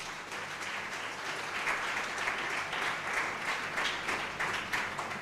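A church congregation claps together during a Sunday morning service, steady, loud, full applause sustained throughout with no gaps.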